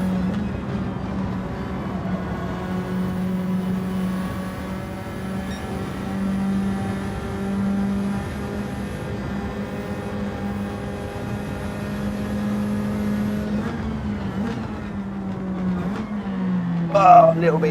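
A racing car in Gran Turismo 7 holds a steady, droning engine note at near-constant speed through a lobby race, with a brief surge and tire noise near the end.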